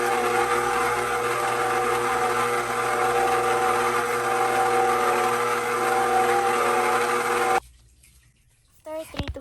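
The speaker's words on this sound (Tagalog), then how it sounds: "Tapos gumamit ako ng stand mixer, mga 3 to 5 minutes ko siyang hinalo." A stand mixer works ube crinkle dough of eggs, oil and flour with a steady, close motor whir that runs evenly for several seconds, then cuts off abruptly, followed by a few brief clinks.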